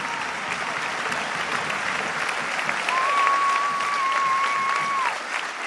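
Sustained, loud applause from an audience at a political speech event, steady from start to finish, with a thin whistle-like tone rising above it for a couple of seconds midway.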